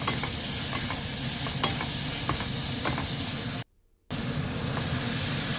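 Vegetables with coriander powder sizzle steadily in a pan for vegetable kurma, with scraping stirs audible through the constant frying hiss and a short silent gap midway.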